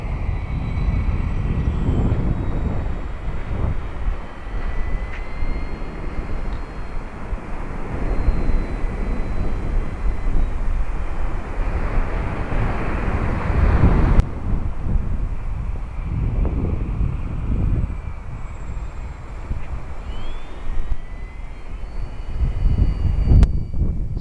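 A Mk 24 aircraft engine drones steadily in a climb with full flap and some power, a continuous broad roar mixed with wind rush, loud throughout with slight surges.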